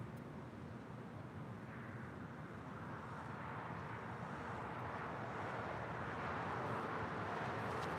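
An Asiana airliner starts its takeoff roll on runway 25 left at Los Angeles International Airport, with a steady, faint, broadband jet roar that slowly grows louder, and no voices.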